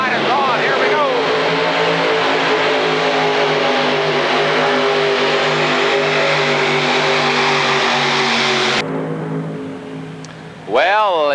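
A modified pulling tractor with three 427 Chevrolet engines and a Banter rear end roars loud and steady at full throttle during a 1986 indoor tractor pull, then drops off sharply and revs again near the end.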